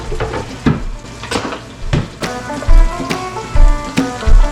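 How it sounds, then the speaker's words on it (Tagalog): Steady sizzling of squid adobo frying in hot oil in a pan, punctuated by clinks and scrapes of a utensil stirring against cookware, close up with no voices. "Pinalagabihan ko ng kaunti ang mantika para medyo prito ba. Ipa-fry muna."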